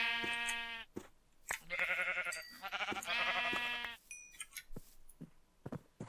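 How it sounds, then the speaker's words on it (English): Sheep in the Minecraft video game bleat several times, with a few overlapping calls in the middle and a quieter call near the end. They sound clean and close, with no talking. "I spy myself some sheep to become dead sheep in a second."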